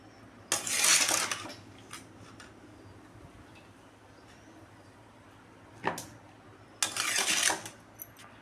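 Boiled elephant foot yam pieces go into a bowl with bursts of clattering utensil scrapes and knocks. One burst comes early, then a short knock, then a longer clatter near the end, with quieter handling between.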